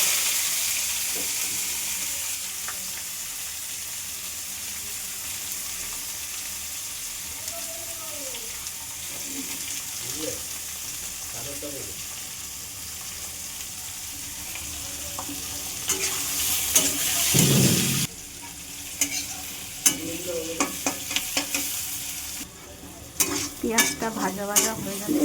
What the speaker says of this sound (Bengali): এরপর পেঁয়াজগুলো দিয়ে দেবো।